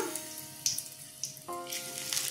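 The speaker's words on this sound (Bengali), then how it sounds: "তেজপাতা শুকনো লঙ্কা ফোড়ন দিলাম" Bay leaf and dried red chilli hit hot mustard oil in a kadai, giving a faint sizzle broken by a few sharp clinks and spits.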